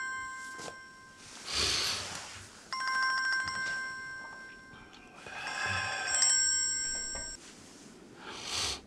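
Mobile phone ringtone in a Turkish TV drama scene, a repeating electronic ring in bursts, moderately loud, with soft breathing and movement between rings.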